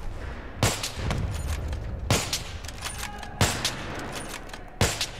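Sniper rifle fire in the shooter game Battlefield 3: four sharp, loud reports spaced over a few seconds, each with a brief echoing tail, amid faint background game ambience.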